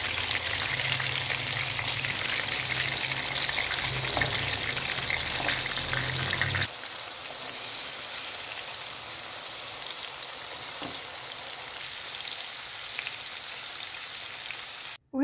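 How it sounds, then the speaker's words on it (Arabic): Peppers, tomatoes and garlic frying in a pan, a steady close crackling sizzle that drops slightly in body partway through and continues evenly, with no talking. "مقلينا الفلفل، باش نحط الطماطم، توا باش نحط الثوم مع الطماطم والفلفل"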